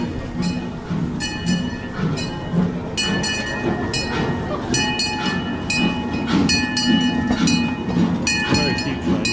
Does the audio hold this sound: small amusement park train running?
yes